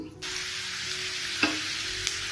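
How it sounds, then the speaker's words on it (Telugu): Onions sizzle steadily in hot oil for a Telugu stuffed brinjal curry, a continuous close hiss with one sharp utensil tap midway and a fainter one near the end. "కొంచెం వేడైన తర్వాత ఉల్లిపాయలు వేస్తాము"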